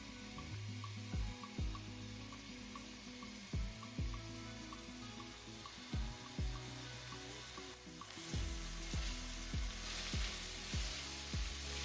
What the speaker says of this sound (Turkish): bir adet soğan ve bir adet kapya biberi tenceremizin içerisine alalım ve güzelce kavurmaya başlayalım